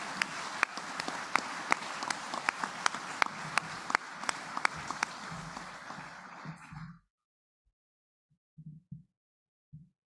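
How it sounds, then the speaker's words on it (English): An audience claps at a military commissioning ceremony, sustained applause with sharp individual claps for several seconds before it fades, followed by near silence and a few faint sounds. "So please give them another round of applause."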